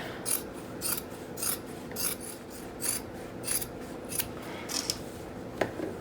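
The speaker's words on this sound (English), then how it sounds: "Let's get our handy dandy scissors and" Scissors snip repeatedly in a steady rhythm, crisp metallic cuts through plaid flannel fabric close up, with a faint background hum.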